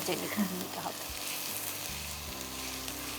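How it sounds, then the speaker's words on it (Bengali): Mutton frying in a pan, with a continuous faint sizzle and a few soft stirring scrapes. "আচ্ছা, এবার এটাকে একটু ভালো করে ভাজতে হবে।"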